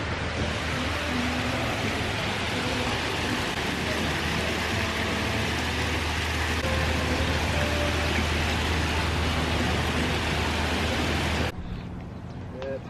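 Steady rain falls along Front Street in Maui, Hawaii, a dense, even hiss up close that cuts off near the end, with people talking faintly under it.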